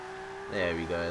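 A Skyline R34 drift car engine in the video game Forza 5 hums steadily, then revs up sharply with a rising whine, dips briefly, and surges again.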